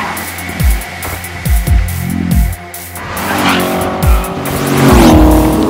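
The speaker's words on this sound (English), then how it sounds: "while we enjoy the sights and sounds of Ferraris and Lamborghinis racing all around us" Ferraris and Lamborghinis race around a track at Exotics Racing, loud engines sweeping past in several quick close drive-bys, followed by a sustained high revving whine with tire squeal as cars accelerate nearby.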